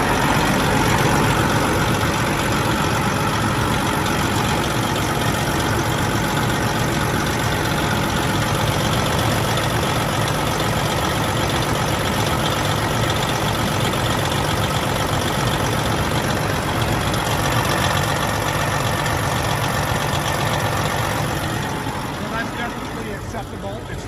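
A 1996 Freightliner FLD120 truck with a Detroit diesel engine idles steadily and close by, a continuous low rumble that holds even throughout and eases slightly near the end.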